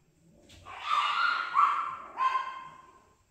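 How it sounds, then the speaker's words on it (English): Dogs whimper and yip late at night in a few drawn-out, high-pitched cries, fairly close, with a short break before the last one. "noisy dogs don't know what set them off"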